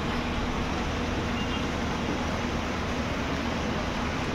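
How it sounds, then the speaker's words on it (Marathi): Steady broadband rush of water flowing inside a village water filter house, loud and continuous throughout with no break or change. "पाण्याचा आवाज."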